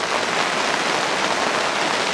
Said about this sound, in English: Rain's slowing down a little bit.